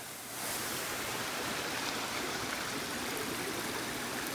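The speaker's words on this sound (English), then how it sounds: "It's a pretty good stream." Mountain stream in a Polish forest flows with a continuous, even rushing and gurgling, close and moderately loud after a short fade-in, with no talking.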